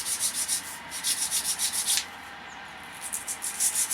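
A bristle brush scrubbing the blade guards of a scythe in quick, rhythmic, close strokes, with a brief pause partway through.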